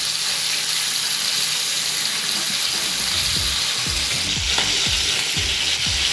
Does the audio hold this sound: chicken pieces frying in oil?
yes